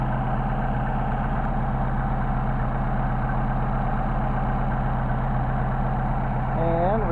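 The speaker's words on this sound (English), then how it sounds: "And we've got our idle." A Mercedes 190SL engine with Solex carburetors idles in the cold, a steady close rumble with a constant low throb, and a brief rising whine near the end.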